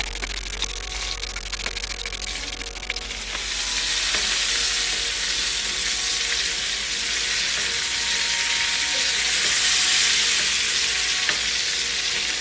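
Steak fries in butter in a pan with a steady, close sizzle that swells louder after a few seconds and then holds a strong, continuous hiss.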